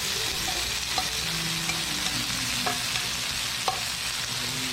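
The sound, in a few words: black pork grilling and sizzling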